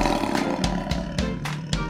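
A tiger gives a series of deep, rumbling roars with rhythmic pulses, loud and close, with no talk over it.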